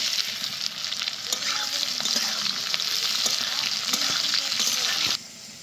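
Chopped onions sizzle steadily in hot oil for a spiced village-style chicken, a dense close crackle with occasional stirring scrapes, cutting off abruptly near the end.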